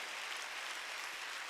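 A church congregation applauds during a Wednesday worship service, a faint, even wash of clapping that holds steady throughout without a break.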